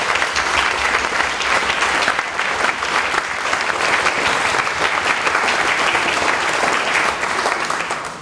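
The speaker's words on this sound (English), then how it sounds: "I think we should give the students a round of applause." Applause from a school audience for students after a question time event, a dense, loud, sustained clapping that continues evenly without talk.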